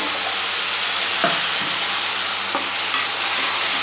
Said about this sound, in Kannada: ನೋಡಿ, ಈಗ ಇದೆಲ್ಲ ಫ್ರೈ ಆಗಿದೆ, ಈರುಳ್ಳಿ ಎಲ್ಲ